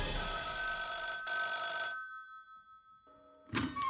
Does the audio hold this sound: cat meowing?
no